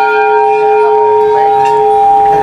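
Metal bells ring at the Golu Devta temple in Uttarakhand, producing loud, sustained ringing tones with overlapping strikes and faint background voices.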